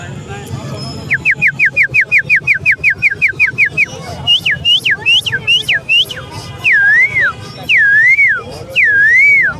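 A man at the Lalukhet Sunday bird market whistles repeatedly, first a fast run of short identical chirps, then slower swooping, wavering whistles, loud and close against a busy crowd murmur.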